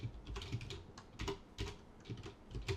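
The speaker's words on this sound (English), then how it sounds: "So let's just type input" Fingers tap steadily on a computer keyboard, quick irregular keystrokes clustered close to the microphone at a low, soft level with no speech.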